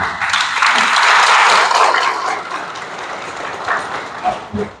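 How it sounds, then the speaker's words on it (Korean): Applause from the audience at a civic memorial ceremony for the June Democratic Uprising inside Seoul Anglican Cathedral swells into a broad, steady wash, then thins out into scattered claps. "큰 박수로 맞아주시기 바랍니다."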